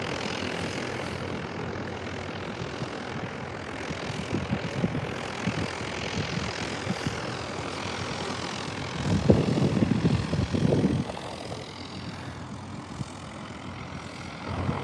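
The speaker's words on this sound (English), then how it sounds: "And that Cessna is doing a go around again." A Cessna light propeller plane on a go-around, its engine droning steadily at a moderate distance, with a louder swell of engine noise partway through before settling back.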